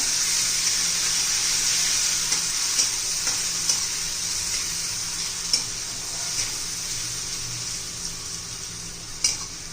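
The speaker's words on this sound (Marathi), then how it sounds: "मोहरी जरा तडतडून घ्यायची आहे मग मिरची घालू" Mustard seeds splutter in hot oil with green chilies added, making a loud, continuous close sizzle with scattered pops and crackles throughout.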